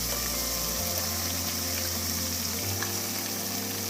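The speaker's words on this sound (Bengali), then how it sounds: "এখন আমি প্রথমে এটাতে কলিজাটা দিয়ে দিচ্ছি" Beef or chicken liver frying in a pan of hot spice masala for kolija bhuna, giving a steady, close, dense sizzle with a low hum underneath and no talking.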